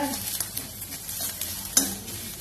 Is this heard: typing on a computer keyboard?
no